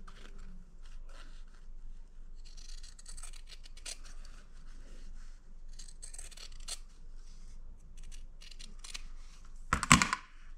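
Repeated snips and crunches of scissors cutting through fabric, steady and close, with a louder sharp burst near the end.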